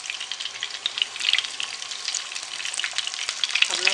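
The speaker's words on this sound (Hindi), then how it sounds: "अब मैं इसको अच्छे से फ्राई कर लूँगी इन पीसेस को।" Battered fish pieces frying in hot oil, a busy crackling sizzle with scattered sharp pops throughout, steady and close, with no one speaking.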